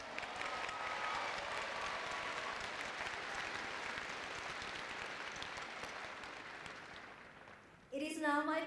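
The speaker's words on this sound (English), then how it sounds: "Let's give her one more round of applause." University commencement audience applauding, broad and sustained clapping from a large crowd that holds for several seconds and slowly tapers before a voice comes in at the end.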